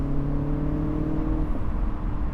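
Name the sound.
Mini Cooper S B48 turbo engine accelerating 0 to 60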